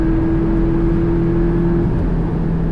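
A 2018 Porsche 718 Cayman GTS engine pulls steadily in fifth gear while climbing a hill, a continuous close drone with a steady low tone and no talk over it.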